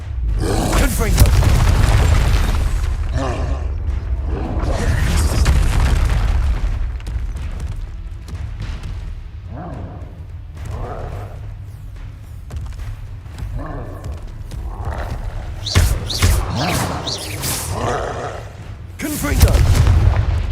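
Repeated blasting-spell explosions in Hogwarts Legacy, a string of loud booms and bursts over a dense game soundscape, with a player's voice shouting spell names throughout.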